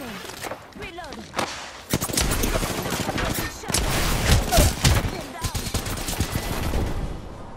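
Peacekeeper shotgun and other weapons firing in an Apex Legends match: sharp, loud shots and bursts crowd the whole stretch, with rapid volleys building in the middle, under game voice lines.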